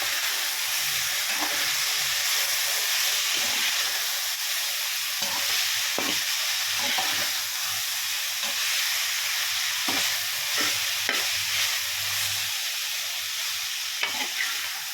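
Ivy gourd curry is stirred in a pan after turmeric, chili powder and salt go in: a steady, close sizzle of frying broken by repeated scraping strokes of the spoon, with no talking.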